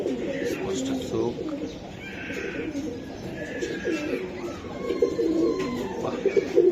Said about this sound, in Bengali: এত সুন্দর কবুতর, এত সুন্দর ফাটাফাটি কবুতর